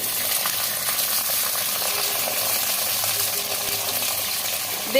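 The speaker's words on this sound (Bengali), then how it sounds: "আমি এক এক করে সবজিগুলো একটু ভাজবো, একসাথেই ভাজবো সব সবজি" Mixed vegetables, eggplant among them, fry together in a pan with a constant bright sizzle and crackle, steady and close, with small clinks near the end.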